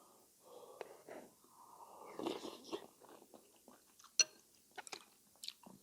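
Close, quiet chewing and soft slurping of dumplings mixed into rice in a freshwater fish stew, with wet bites, breaths and a few small clicks.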